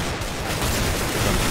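Dense rapid gunfire from CS:GO fills the whole stretch, a steady loud clatter of shots with booming low end and no pauses.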